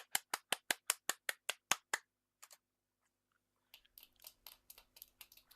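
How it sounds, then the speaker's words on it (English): Sparse, thin applause from a small audience in the Steins;Gate video game as an inventor takes the stage: about a dozen quick, even claps, then a short pause and a scattered, quieter patter of clapping. "The lamest applause ever."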